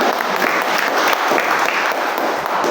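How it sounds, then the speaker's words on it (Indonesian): Sustained applause from a church congregation after a sermon, loud and steady throughout with no pauses. "Tepuk tangan yang terbaik."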